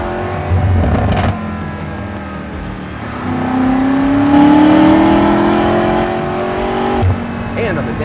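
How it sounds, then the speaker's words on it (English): A 2021 BMW M5 Competition's loud exhaust roars as the engine accelerates, pitch climbing steadily, with a brief gap between surges and engine noise throughout. "But what I like about it actually is the noise."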